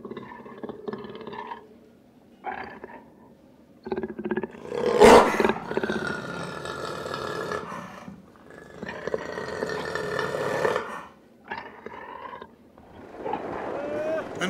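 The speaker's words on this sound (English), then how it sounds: "Their vocalizations can be called grunts, or low-pitched roars," A jaguar gives low-pitched roaring grunts, a series of deep rasping calls with pauses between them, close and loud.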